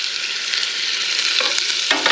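Crappie fillets frying in butter in a pan, a loud, steady hiss that stays close and continuous, with a few stirring or turning scrapes near the end and no voices.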